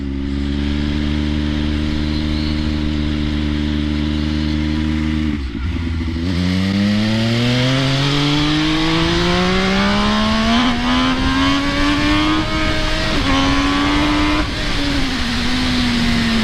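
A supermoto motorcycle revs and accelerates hard to warm its tires, a loud close engine drone that dips briefly before climbing steadily in pitch through a long pull, with shifts near the end.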